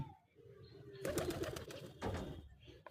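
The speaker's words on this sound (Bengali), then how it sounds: "এই যে দেখেন আমার সুন্দর কবুতর কি সুন্দর বাইরে বসে আছে" Pet pigeons perched outdoors, soft low cooing with wing flutters in two short bursts, fairly faint against quiet surroundings.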